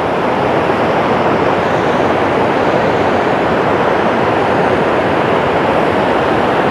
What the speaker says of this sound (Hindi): आवाज़ तो सुनिए कलकलाहट सुनिए पानी की